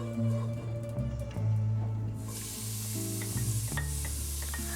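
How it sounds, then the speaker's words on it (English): Diced onions hit hot oil in a pot for risotto, giving a steady close sizzle that flares louder partway through, mixed under prominent melodic background music. "Once the oil is hot enough, we add in the diced onions."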